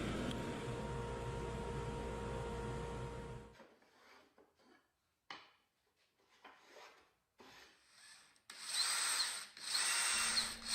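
A drill press spins wooden plugs being polished with 4/0 steel wool, a steady whirring hum that stops abruptly, followed by scattered rubbing and rasping scrapes, then a brighter, louder spinning burst near the end.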